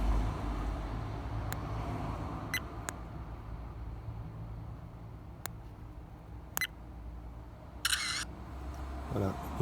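Several sharp button clicks from a Glymnis sport cam taking a photo, spaced irregularly, with a brief chirping beep near the end, all over a low hum of car and road noise.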